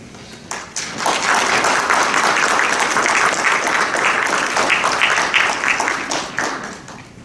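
Audience applause welcoming Professor Sanneh to the podium at the opening plenary of a theology conference, a dense, steady roomful of clapping that swells quickly after a brief start and holds for several seconds before tapering off.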